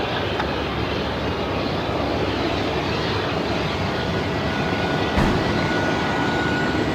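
An airliner taking off from runway 34 at Melbourne Airport gives a steady, loud, broadband engine roar that holds unchanged for the whole stretch, with no voices over it.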